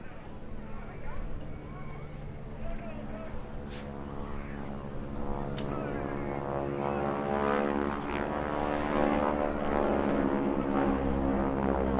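A propeller plane flies overhead at the English Riviera Airshow, a steady droning engine roar that slowly swells louder over twelve seconds with a rich layered hum and faint crowd sounds.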